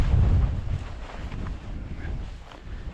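Wind gusts across a remote wild camping spot in Northumberland, buffeting the microphone with low, rumbling bursts that ebb and swell over a few seconds.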